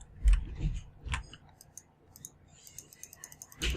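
Mouse clicks during Minecraft play, a few sharp isolated clicks spread through a quiet stretch, close and crisp, with faint background noise between them.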